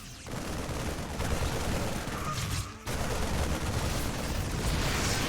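Liberator firing in a StarCraft II match, a dense continuous barrage of rapid gunfire and explosions that briefly drops out near the middle, then resumes at full loudness.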